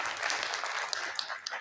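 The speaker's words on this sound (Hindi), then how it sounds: "तालियां तो बजाइए भाई सबको।" An audience at a government youth entrepreneur scheme camp in Lucknow, Uttar Pradesh, claps steadily. The soft, continuous applause has a few sharper individual claps standing out, heard from a moderate distance with no clear speech over it.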